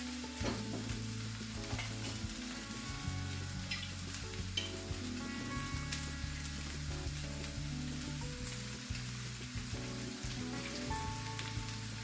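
Chicken being stirred with a little oil in a hot pan, giving a steady, close sizzle and crackle that holds at an even level throughout, with faint stirring sounds beneath.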